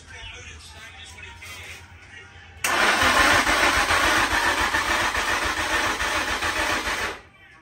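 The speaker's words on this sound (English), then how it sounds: "we've got the car in a stage where we can turn it on, so we're about to turn the key" A Nissan Stagea NM35 engine cranks and catches on its first start after a build, then roars loudly at high revs for several seconds before cutting off abruptly; quiet background noise precedes it.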